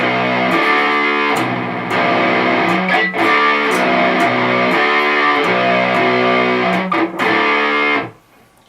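Heavily distorted electric guitar plays a riff from a song slowly, thick sustained chugging notes with short muted gaps, loud and close, ending in a quick fade.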